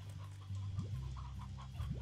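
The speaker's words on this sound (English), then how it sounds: "A couple chickens." Chickens in the Slime Rancher video game give soft, close clucks in short, irregular bursts under a low, steady background hum.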